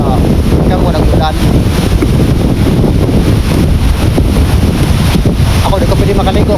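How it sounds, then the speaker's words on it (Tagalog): Strong waves at Pikalawag Beach roar steadily and loudly, heavily mixed with wind buffeting the microphone, while people talk nearby throughout. "Kusog kayo ang balod do."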